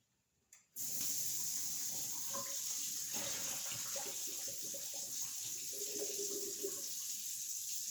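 After a brief quiet, a faucet bursts on and runs steadily as white corn grits are rinsed in a sieve, a constant close rush of water with faint shifting splashes.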